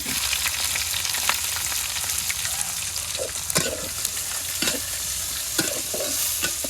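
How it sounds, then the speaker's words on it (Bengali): Onions and green chilies fry in hot oil in a pan, giving a loud, continuous sizzle close by, broken by repeated scraping clacks of a stirring spoon. "পিঁয়াজ কাঁচামরিচ দিয়ে দিলাম এটাও পিঁয়াজ কাঁচামরিচ দিয়ে দিলাম"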